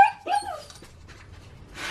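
Dogs let out a couple of sharp, high yips and barks close by, which fade into quieter rustling and shuffling.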